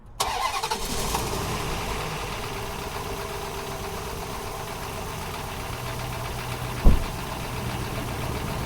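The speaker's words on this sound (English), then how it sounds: "And we'll start the engine and check the pressure." A car engine cold starting after an oil-light fault repair, a brief cranking followed by the engine catching and settling into a steady, fairly loud idle with one sharp knock partway through.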